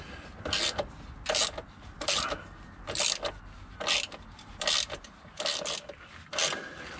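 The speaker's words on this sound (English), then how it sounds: "What I'll do first is I'll start cracking those bolts off." A ratchet loosens engine mount bolts on an E8x BMW 1 Series, sounding as about a dozen rhythmic rasping clicking strokes, close and moderately loud.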